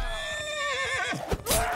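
A horse in Mount & Blade II: Bannerlord lets out a loud, close whinny with a wavering, descending pitch, broken off near the end by a sharp impact and scuffle.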